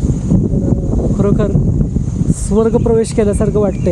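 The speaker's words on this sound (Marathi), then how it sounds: "तुम्हाला व्हिडिओमध्ये वाऱ्याचा आवाजसुद्धा ऐकू येत असेल" Strong wind buffets the microphone on a Sahyadri hilltop near Patan, a loud steady rumbling roar throughout while someone speaks over it.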